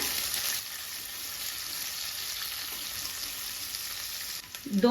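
Finely chopped onions fry in a pan on the way to light brown, giving an even, close sizzling hiss, with a brief clatter of stirring at the end.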